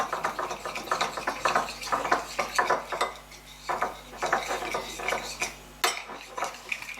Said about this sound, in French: Allez hop, on mélange, on mélange, on mélange.